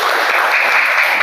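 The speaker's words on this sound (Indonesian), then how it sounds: "Tepuk tangan untuk kita semua." A classroom audience at an Indonesian teacher-training presentation claps in a short, loud, steady burst of applause.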